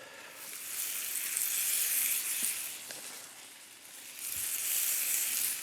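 Garlic sizzling in a pan with vegetables, a steady close frying hiss that swells and eases in gentle waves, with a few faint stirring clicks and no talking.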